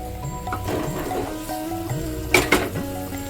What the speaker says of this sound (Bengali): ডিমগুলো দিয়ে একটু নেড়ে ছেড়ে দেবো ভালো করে